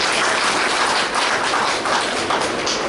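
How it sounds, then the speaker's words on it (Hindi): An audience at a Hindi spiritual gathering breaks into sustained applause, a dense, close patter of many hands clapping throughout. "उनकी बलिदान के लिए ताली तो हो जाए।"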